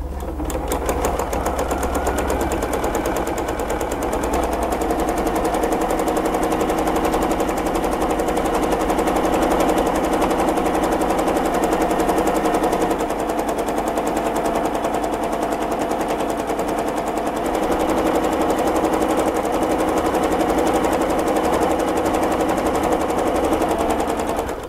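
A sewing machine fitted with Stitch Assist runs flat out, feeding a long strip of fabric through in a steady, rapid, continuous mechanical chatter that stays loud and close for the whole stretch.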